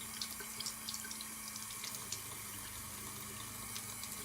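Warm tap water running into a sink while a makeup brush is washed, a steady close stream with small irregular splashes and drips on top, no talking.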